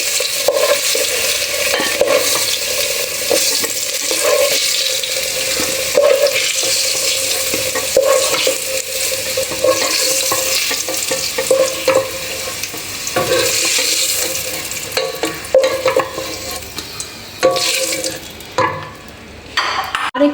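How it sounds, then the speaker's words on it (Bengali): Potatoes browning in hot oil in a pan while biryani is being cooked, giving a steady, close sizzle with frequent stirring scrapes that grows patchier toward the end. "আলুগুলো আমি লাল করে ভেজে নিয়েছি,"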